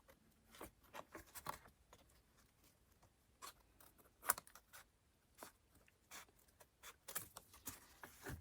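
Scissors trim paper from a handmade junk journal cover in a quiet room, a series of short, crisp snips and paper rustles spaced irregularly, faint and close.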